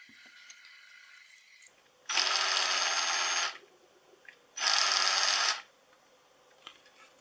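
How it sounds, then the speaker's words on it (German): A cordless drill whirs in two separate bursts of a second or so each, close by, with quiet pauses and small clicks between them. "Das ist ein Akkuschrauber."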